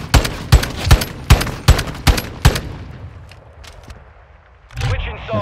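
About seven loud, close sniper rifle shots fire in quick succession in Modern Warfare 2, each with a sharp crack, then the action fades into quieter game noise.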